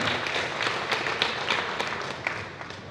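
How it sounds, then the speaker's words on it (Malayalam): Applause from an audience at a movie promotion event, a steady dense wash of clapping lasting the whole few seconds with scattered louder claps standing out. "കയ്യടി പോരല്ലോ, ഒന്നുകൂടെ ഒന്ന് ഉഷാറായിട്ട്."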